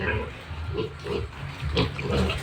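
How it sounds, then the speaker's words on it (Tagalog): Piglets grunting and oinking close by on a farm, several soft overlapping squeals and snorts in short bursts over a low steady background hum. "Ito na po yung mga biik niya."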